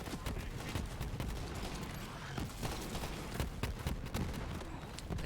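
Rapid, dense gunfire from the co-op shooter game Borderlands 3 rattles continuously in a busy firefight, with sharp cracking shots throughout and little talk.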